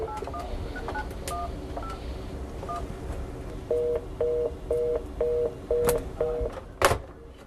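Telephone keypad dialing to reach a cell phone: a quick run of touch-tone beeps followed by several evenly spaced ringback tones, clear and alone with a steady low background hum.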